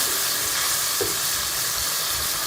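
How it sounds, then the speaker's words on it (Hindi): Tomato paste and onion masala frying in a pan for chicken liver (kaleji) masala, giving a steady broadband sizzle throughout with a faint stirring scrape near the middle. "मसाला है इसमें हम टमाटर भी का पेस्ट भी शामिल कर देंगे और इसको भी मसाले के साथ अच्छी तरह से हम भून लेंगे"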